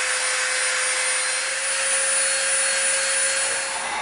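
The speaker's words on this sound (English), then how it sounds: "we're going to get out our Dremel and we're going to round the edge off" A Dremel rotary tool rounds the edge of EVA foam, a high, steady whine with a sustained tonal hum that runs unbroken at close range and stays loud throughout, with no talk.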